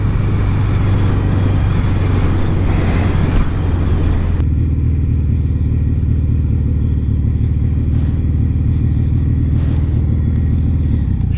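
A 1971 Yamaha XS 650 motorcycle engine idles steadily and a bit high up close, a low continuous rumble with a slight shift in tone partway through, no voices.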